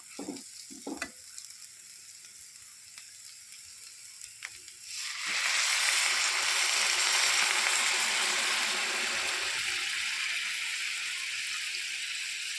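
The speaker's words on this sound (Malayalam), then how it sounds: "ചൂടുവെള്ളം ഒഴിക്കാം" Hot water poured into a pan of onion curry gravy sets off a loud, steady sizzling hiss after a few quieter clinks and stirring sounds, then it settles into a broad bubbling rush for the rest of the clip.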